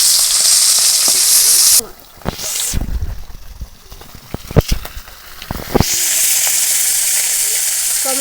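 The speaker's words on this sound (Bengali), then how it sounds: "এগুলো একটু প্রথমে ভালো করে ভেজে নেব" Hilsa fish heads frying in hot fish oil for a chorchori: a loud, close sizzle that briefly dips while stirring clatters and taps cut in, then returns to a full hiss.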